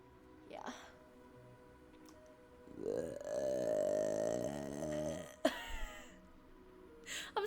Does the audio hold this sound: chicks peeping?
no